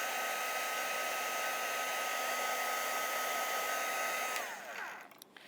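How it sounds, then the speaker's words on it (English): A heat tool blows hot air onto glue on a moss embellishment for a mixed media plaque, a steady loud whooshing hum for about four seconds that then cuts off and winds down, with a few small clicks after. "So I'm just going to heat the glue"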